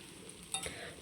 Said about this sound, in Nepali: एकैचोटि यसरी भुटेँ।